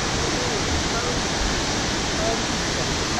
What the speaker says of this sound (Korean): 이거 폭포 이름이 뭐예요?